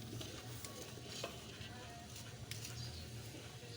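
Balut eggs boiling hard in a pot over an open fire, giving a steady, dense bubbling and sizzling rumble that runs unbroken throughout at close range.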